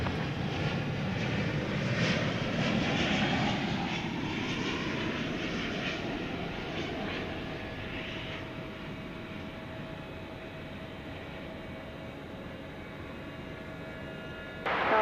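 An airplane rumbles steadily at DFW Airport at night as a broad, continuous engine roar that slowly eases, with a faint whining tone running underneath and a small swell at the very end.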